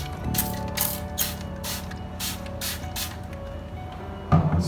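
Waterliq cleaning liquid is sprayed from a trigger bottle onto a surface in repeated short hissing pumps, close and alone, ending with a brief handling clunk.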